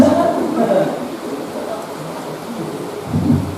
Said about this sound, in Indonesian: Terima kasih hujan, supaya jemaat jangan balik.